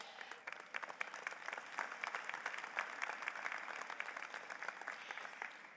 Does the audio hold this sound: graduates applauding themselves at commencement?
yes